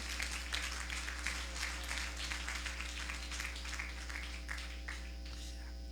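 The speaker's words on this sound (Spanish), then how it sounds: "Demos una ofrenda de palmas al Señor." Church congregation clapping as an offering of applause to the Lord, steady continuous clapping over a constant low hum, moderately distant and even in level.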